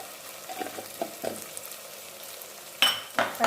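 Ginger garlic paste and turmeric fry in a pan for chicken curry, giving soft sizzling with stirring scrapes and spoon clinks against the pan, then louder bursts of spitting near the end.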